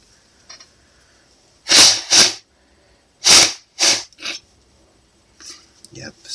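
Two quick pairs of loud, close sneezes with sharp bursts of breath, followed by a few fainter sniffs and rustles.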